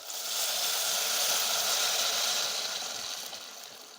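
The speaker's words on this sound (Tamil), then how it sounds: "நம்ம ஏற்கனவே கரைச்சி மாற்றி வச்சுருக்கிறோம்ல புளி தண்ணியை இப்போ சேர்த்துக்கோங்க." Tamarind water poured into a pan of frying onions for theeyal produces a broad, steady sizzling hiss that swells and then slowly fades, with no talk.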